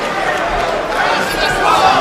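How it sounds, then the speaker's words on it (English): A boxing arena crowd chants during the Sultan Ibragimov versus Lance Whitaker heavyweight fight. The dense, distant roar of massed voices holds steady and swells slightly toward the end. "Crowd chanting Sultan."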